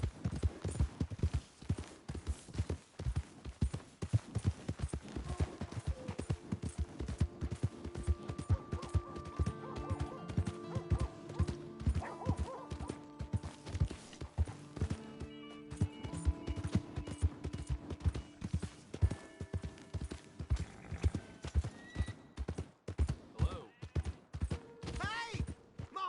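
Steady clip-clopping horse hooves trot along for the whole stretch in Red Dead Redemption 2, with a voice calling out briefly and a busy, layered game soundscape behind.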